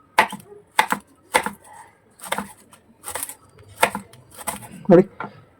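Leaves chopped very finely with a sharp knife on a board, about a dozen crisp, evenly spaced close cuts in a steady rhythm, with a voice talking quietly between the strokes.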